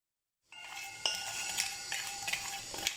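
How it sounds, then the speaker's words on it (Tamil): Pieces of cinnamon stick fry and get stirred in a pan after a moment of silence, with a soft sizzle and repeated clinks and scrapes of a utensil against metal. "நம்ம பட்டை, சினமன் ஃப்ரை பண்ணிக்கலாம்."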